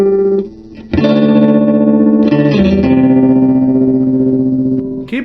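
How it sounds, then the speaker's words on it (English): Electric guitar played through a WingmanFX tremolo pedal, loud sustained distorted chords whose volume pulses in a quick, steady wobble, with a few chord changes and no talking. "So this is the tremolo side on now."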